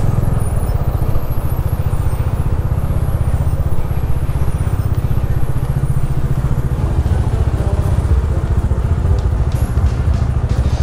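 A motorcycle engine idles steadily and loudly throughout, a continuous low throbbing rumble with a slight mechanical clatter.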